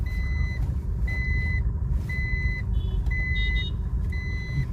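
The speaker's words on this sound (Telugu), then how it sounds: "సీట్ బెల్ట్ పెట్టుకోకపోతే అట్లా బీప్ సౌండ్ వస్తుంది" Seat belt warning chime inside a Maruti car, a repeating series of short electronic beeps at a steady rhythm over low engine rumble, no one speaking.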